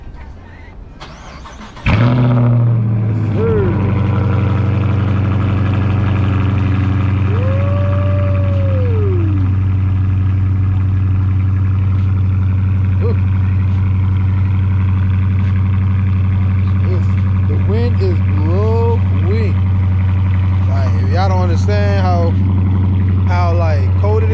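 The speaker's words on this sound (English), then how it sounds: "So this is about to be a cold start because I didn't start her up." A Chrysler 300 starting from cold, with the starter cranking and the engine catching at about two seconds, then settling into a loud, steady, deep idle drone close by while a person talks over it.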